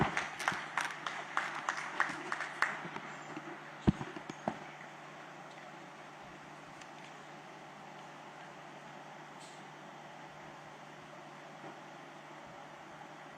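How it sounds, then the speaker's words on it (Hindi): Applause greets the chief minister at the inauguration of Regency Hospital in Gorakhpur. A dense burst of clapping fills the first few seconds and then thins quickly into a quiet, hissy room. "तालियों के साथ स्वागत"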